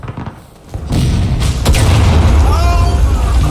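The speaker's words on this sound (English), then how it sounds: "They're shooting already." Shooting begins, with a few muffled booming shots followed by a dense, continuous rumble of distant gunfire and thuds, loud and sustained, while voices can be heard over it.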